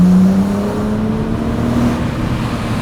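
BMW 135i with the N54 engine accelerating through canyon roads, a loud continuous rising engine drone with a strong low tone and steady exhaust rumble, heard up close with no talk.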